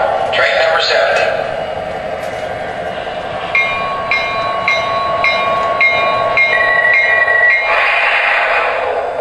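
An MTH VIA Rail P42DC Genesis diesel model train runs with a steady rumble while electronic station announcements and beeping tones play over it and voices talk throughout.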